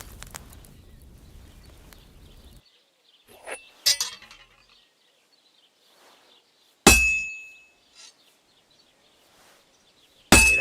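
Hammer blows on an anvil at a forge in Kingdom Come: Deliverance 2, a few sharp metallic clangs spaced seconds apart, ringing briefly and loud against near silence, with a low rumble at the start.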